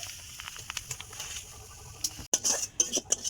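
Semolina frying in hot ghee in a pan while being stirred, with quiet scraping and light clinks of a spoon against the pan, soft patter in between and a sharper burst of scraping near the end.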